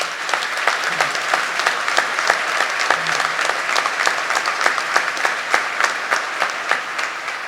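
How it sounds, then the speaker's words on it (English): Steady, full applause from the audience at a state police academy graduation ceremony, many hands clapping together in a continuous, fairly close wash with occasional sharper claps standing out. "I'm going to give you all a round of applause"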